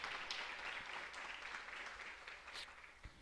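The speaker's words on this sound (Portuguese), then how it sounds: "Vamos aplaudir a palavra da salvação." A church congregation applauds after the Gospel reading at a Catholic-style service, a fairly faint, steady wash of many hands clapping that lasts the whole stretch with no voices on top.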